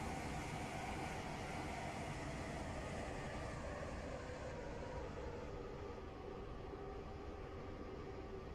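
Train rolling on rails in the Roblox game Stepford County Railway, a steady broadband rumble and hiss that holds evenly throughout without breaks, moderately loud and close, with no voices.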